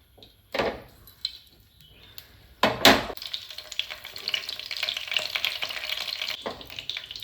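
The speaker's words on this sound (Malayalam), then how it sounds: "എണ്ണ ഒഴിച്ചു കൊടുത്തതിന് ശേഷം നമുക്ക് അതിലേക്ക് കുറച്ച് കറിവേപ്പില ഇട്ട് കൊടുക്കാം കേട്ടോ" Curry leaves go into hot oil for chilli chicken and sizzle into a dense, crackling hiss. Sharp clatters and a burst come first, then a steady close fry continues to the end.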